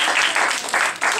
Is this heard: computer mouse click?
no